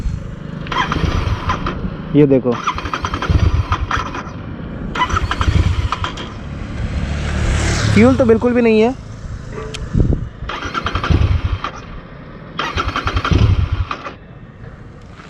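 A Royal Enfield Continental GT 650 BS6 motorcycle with its fuel tank nearly empty cranks and catches briefly. The engine noise rises between stretches of someone talking close to the mic.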